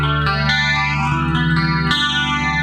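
An electric guitar runs through vintage effects gear for a wobbling, chorus-like underwater tone, with sustained chords sounding loud and continuous and no voices.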